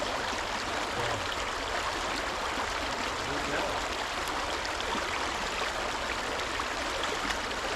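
Fast water rushing through a gold-prospecting sluice box fitted with a combo mat, set in a shallow stream: a steady, loud, unbroken hiss for several seconds with no talking.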